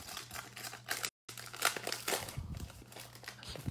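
Foil wrapper of a baseball card bonus pack crinkling and tearing open close by, a run of bright crackles and rustles with a short pause, then more crumpling handling of the pack.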